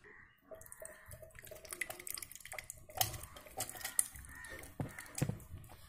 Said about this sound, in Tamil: இதை அப்படியே தூக்கி மிக்சி ஜாரில் ஊற்றிடலாமுங்க.